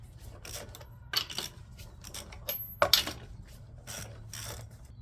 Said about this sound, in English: You're gonna need a 19 millimeter or a 3/4 socket to take these lug nuts off